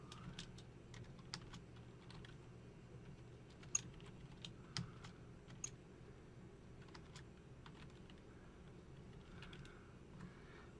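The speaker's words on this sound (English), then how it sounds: "And then I'm going to type the title." Typing a title on a computer keyboard in Microsoft Word: scattered, close key clicks in short irregular bursts over a quiet room hum, with no talking.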